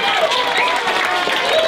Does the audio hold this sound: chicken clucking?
no